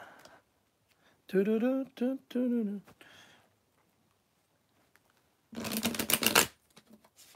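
A short burst of cards being riffled and shuffled, preceded by a voice speaking, with quiet gaps between.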